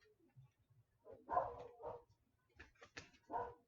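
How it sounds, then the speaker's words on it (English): A young dog yips and barks in short bursts, a handful of separate barks at moderate distance against a quiet background. "hears the puppy next door barking"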